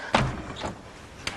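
A door opens in a domestic scene from a Hindi comedy serial, with a sharp clunk of the latch followed by a softer knock and a second brief thud at the end, close and fairly loud with no talking.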